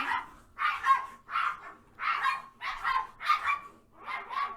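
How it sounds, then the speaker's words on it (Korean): Dogs scuffle indoors, giving about seven close, rhythmic bursts of barking, yipping and growling at steady intervals, with no talk over them. "우리 강아지가 저렇게 싸우는데"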